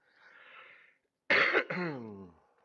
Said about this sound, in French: Quand je passe à la vaporette, je tousse.